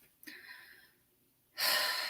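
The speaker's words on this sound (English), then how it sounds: "Take a few deep breaths now." A person takes deep breaths in and out during a relaxation exercise: a quick audible gasp, a soft exhale, a quiet pause, then a louder breathy rush of air, close and alone.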